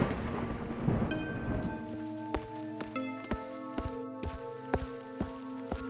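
Rain falls through a night scene in a horror story, with a rumble of thunder at the start giving way to steady rain and a run of sharp, regular drips close by.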